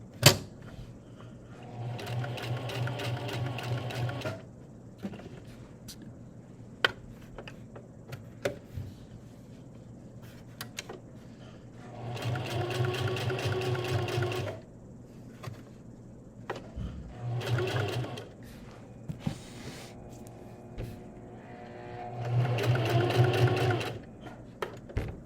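Sewing machine stitching around a felt mask piece, running in three separate bursts of rapid whirring stitches, with quiet handling clicks and taps between runs.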